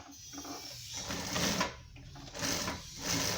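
A sewing machine stitches the side seam of a jacket pocket, a close, rapid mechanical whirring that surges and eases in short bursts with brief slowdowns between them.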